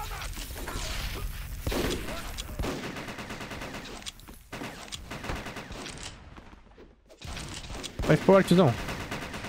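Rifle and automatic gunfire in the online shooter MicroVolts Recharged, with bursts of shots scattered through game effects and a louder cluster near the end, while someone talks excitedly over it.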